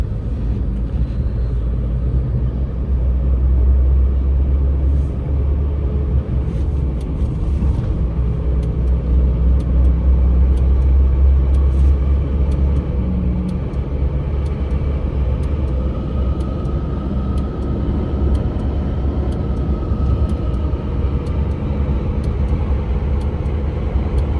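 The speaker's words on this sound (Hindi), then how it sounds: "थोड़ा आवाज सुन लो, क्या आवाज आ रहा है कैबिन नॉइस का।" Cabin noise inside a 2004 Maruti Suzuki Zen while driving: a steady, loud, low engine and road rumble that runs continuously throughout, with no talking.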